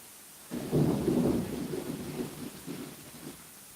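A heavy roll of thunder rumbles up and slowly fades over a constant hiss of steady rainfall.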